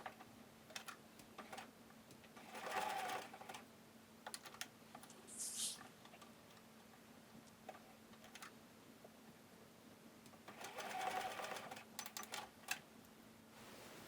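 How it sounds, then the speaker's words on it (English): A sewing machine basting straps onto a pinafore, heard as two short, quiet bursts of rapid stitching separated by a faint room hush, with a few scattered light clicks. "And now we're going to just baste across them too, so they're ready for the next step."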